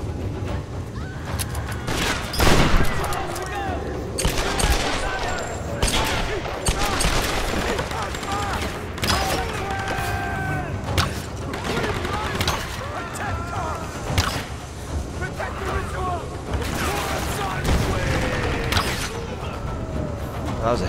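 Gunfire rings out in a Tomb Raider video game as repeated sharp shots and bursts cut through mechanical clatter and game ambience. Shots keep coming throughout, some loud and close, others lighter.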